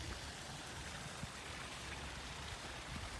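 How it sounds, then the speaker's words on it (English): Water spills steadily over a small backyard koi pond waterfall in a Florida garden, a continuous, even splashing hiss with no pauses and no voices. "As you can hear, it's a noise from the waterfall"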